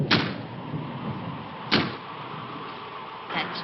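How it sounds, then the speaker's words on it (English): Wind bangs a door against a house, giving three sharp knocks spaced over a few seconds above a steady low rushing background, with no speech. "That's just the wind banging a door."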